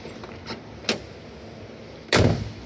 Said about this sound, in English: I love the sound of those doors when they shut nice and solid like that